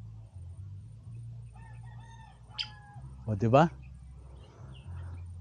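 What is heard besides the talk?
birds singing at campsite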